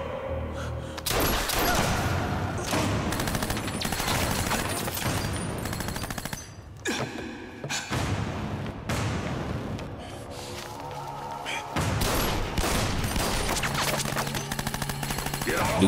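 Sustained automatic gunfire and rapid volleys from an action film shootout roar loud and near for the whole stretch, with brief lulls between bursts.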